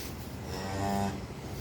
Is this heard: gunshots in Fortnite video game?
no